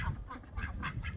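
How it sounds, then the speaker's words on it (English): Several ducks quack in short, eager bursts at close range, four or five calls in quick succession over a steady outdoor background, with no talk. "They will quack at me like crazy to give them a treat."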